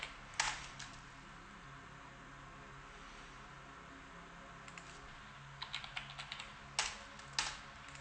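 Someone types a password on a computer keyboard: sparse, quiet key taps in short clusters over a low background hum.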